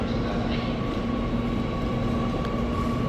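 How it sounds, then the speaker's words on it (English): A Shinkansen bullet train arrives at a station in Japan on the Fukuoka to Hiroshima line. A loud, steady rushing hum with a faint high whine fills the whole moment. "the train must be coming"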